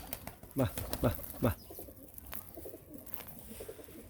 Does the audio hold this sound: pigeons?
yes